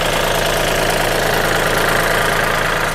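A used farm tractor's original engine idles steadily close by, a continuous rumbling drone with a faint knocking texture and no voices.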